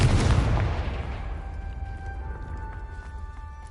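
A Confringo blasting spell goes off in Hogwarts Legacy, one loud booming burst that decays into a long ringing tail with faint tonal shimmer.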